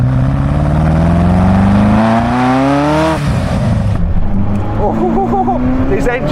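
Ferrari F40 twin-turbo engine pulling hard on boost, a loud rising roar climbing steadily in pitch for about three seconds before easing off, then a lower steady drone with turbo whistle and flutter near the end.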